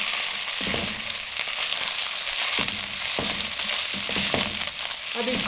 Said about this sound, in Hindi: अब इसको भी हम 1 से 2 मिनट के लिए अच्छे से भून लेंगे।